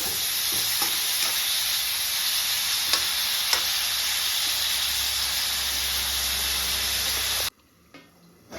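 Tomato and tamarind frying in oil for a moringa leaf chutney: a dense, steady sizzle with faint stirring ticks, loud and close for about seven seconds before dropping abruptly to near quiet.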